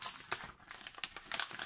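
A plastic slider zip bag is handled close by, giving a run of crinkling, crackling bursts with a few sharper rustles over less than two seconds.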